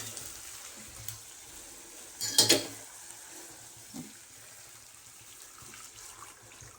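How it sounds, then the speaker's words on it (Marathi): A short splashing pour of water into a cooking pan of spiced brinjal and French beans, a brief burst of liquid hitting the pan mid-clip over quiet kitchen background, followed by a faint clink. "ह्याच्यामध्ये घेते पाणी टाकून आणि ठेवते झाकून"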